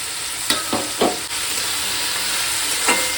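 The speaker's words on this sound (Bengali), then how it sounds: "এবার এর মধ্যে দিয়ে দেবো ভেজে রাখা বড়ি" Fried lentil dumplings (bori) are tossed into a sizzling gourd dish and stirred in a pan, with steady close frying hiss and a few scraping strokes of the spatula.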